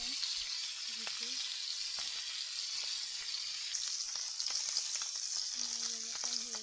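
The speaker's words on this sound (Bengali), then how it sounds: "ছো মাছ ভাজা দিলাম দিতে" Small fish sizzle and spit in hot oil in a frying pan, a steady close crackle with occasional light stirring clinks.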